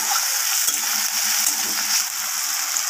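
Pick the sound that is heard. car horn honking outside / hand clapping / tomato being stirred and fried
tomato being stirred and fried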